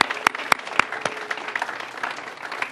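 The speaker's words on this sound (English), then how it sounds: "let's give them a round of applause." Crowd at a groundbreaking ceremony for a state housing agency headquarters gives a round of applause, a few sharp loud claps up front and then a thinner, scattered patter of hands.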